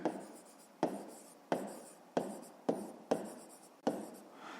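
A pen or pencil writes a fifth-grade maths solution in short scratchy strokes, about seven of them spaced roughly every half second to a second, close and quiet, with no talking.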